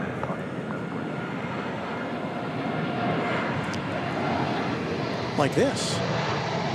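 Cargolux cargo aircraft in 50th anniversary livery passing at DFW airport, a steady broad engine roar at some distance, with people talking over it.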